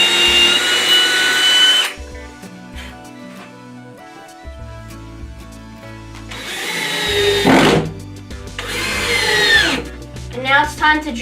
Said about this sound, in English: And now it's time to drill the hole for the shaft.